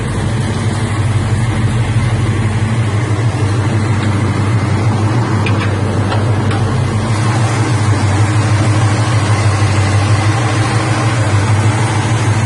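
A 454 big-block Chevrolet V8 in a 1977 K5 Blazer idles steady and loud with a deep, continuous low rumble, running alone with no talking.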